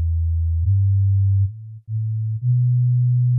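A smooth, steady low synth tone from the 4OSC software synthesizer in Tracktion Waveform holds and shifts pitch in a few small steps, briefly dipping in level once before returning.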